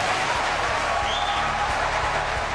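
A crowd applauding Giuliani at a televised political event, steady broadband clapping that holds evenly for a couple of seconds, moderately loud and continuous with no talk over it.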